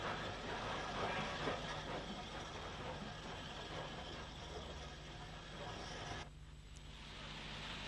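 A GNR SG-Class 0-6-0 steam locomotive, built in 1913 and renumbered 44 by the UTA, runs toward Warren Point on a wintry day, making a steady, loud rumbling hiss with a brief dip in noise near the end.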